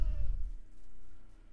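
Goats bleating on a farm in the Medieval Dynasty video game, a loud low cry at the start fading into quieter sustained animal sounds.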